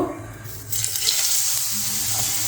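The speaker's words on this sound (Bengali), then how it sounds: "তেল গরম হয়ে গেছে এবারে ঝিঙেগুলোকে আমি দিয়ে দেব" Ridge gourd slices hit hot oil in a pan, starting with a rush of broadband sizzling that rises sharply and then holds as a steady, loud fry.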